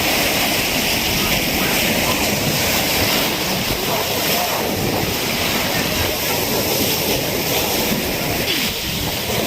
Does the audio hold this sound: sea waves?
yes